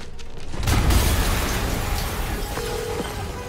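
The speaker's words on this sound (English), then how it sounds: "an explosion just..." A deep explosion booms in Marvel's Spider-Man on PS5, rising into a heavy low rumble around the first second and settling into a sustained roar of debris and fire, with a faint tone near the end.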